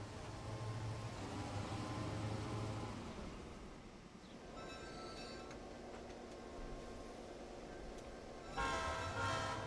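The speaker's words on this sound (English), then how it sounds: "That's a big train." A large train in Transport Fever 2 rumbles steadily at a moderate distance, with faint clinks and a brief horn-like toot near the end.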